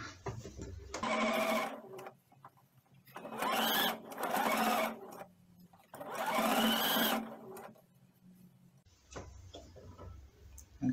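A sewing machine joins the front and back of a fabric doll head in three quiet bursts of rapid stitching, with short pauses between them.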